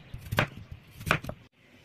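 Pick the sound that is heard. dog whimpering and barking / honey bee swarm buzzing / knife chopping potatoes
knife chopping potatoes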